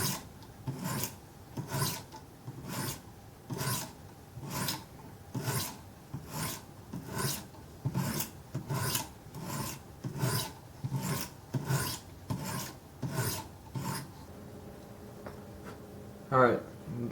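Steady rhythmic rasping strokes of a knife blade drawn across a coarse 100 grit stone on a Wicked Edge sharpener, about fifteen even back-and-forth passes, close and moderately loud, ending with a brief clatter.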